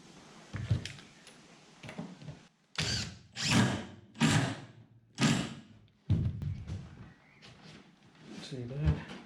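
A power drill bores into a fishing boat floor during a floor-fitting job, several short loud bursts of whirring separated by pauses, with someone talking at times between them.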